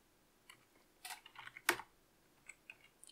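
A password being typed on a computer keyboard: a few sparse, quiet key clicks that end in one sharp louder press, with no talking.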